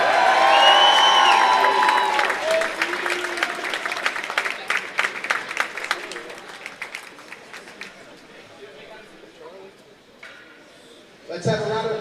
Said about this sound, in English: Let's have a round of applause for our all-tournament team.